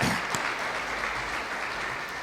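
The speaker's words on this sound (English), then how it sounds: "we all need to give a big round of applause for Stuart for his work on this" An audience at an economic development loan fund press conference applauds, a soft, even wash of many hands clapping that holds steady for a couple of seconds without a voice over it.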